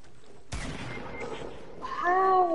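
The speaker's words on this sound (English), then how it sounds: "He's shooting at me" Gunfire from a squads match in a shooter video game, a sudden loud burst of shots followed by rattling fire, with a rising whine near the end; no one talks.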